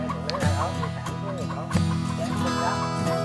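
Free-range garden chickens cluck in a family farm coop in Quang Nam that also houses pigeons, with several short, nearby clucks and calls overlapping throughout.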